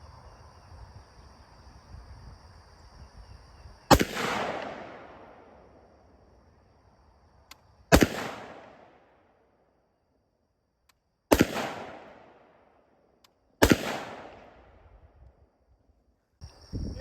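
Four sharp pistol shots crack out at a shooting practice range, spaced a few seconds apart, each loud and close with a quick decaying echo, separated by near silence.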